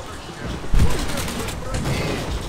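Enemy gunfire in the TimeShift video game, bursts of shots crackling over a noisy battle bed, with a heavier blast near the start and someone talking over it.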